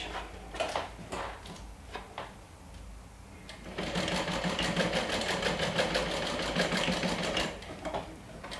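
A sewing machine stitches fabric lining, starting with a few short bursts and then running in one steady, loud, rapid stretch of needle strokes before slowing near the end.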